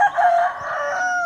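A rooster gives one short, close crow, a strained harmonic call that holds for about a second and then trails off, alone without speech.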